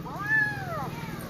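A cat gives a single drawn-out, rising-then-falling meow close by, lasting under a second over faint background hum.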